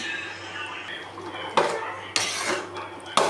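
Small tubers tipped into a metal cooking pot for a kootu, with a few sharp clattering drops and scrapes of utensil against pan, close and fairly loud in short bursts.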